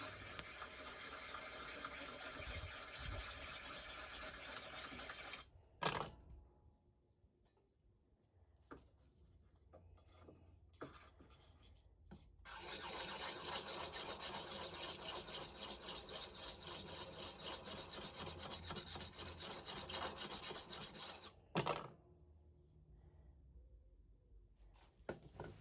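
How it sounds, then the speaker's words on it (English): Garden shears being sharpened on a cheap, not-flat diamond stone during a restoration: long stretches of steady, gritty scraping, broken by short pauses and a few brief knocks, close by. "I can just use a really cheap diamond stone that's not flat, just to refine the edge and improve the condition of the"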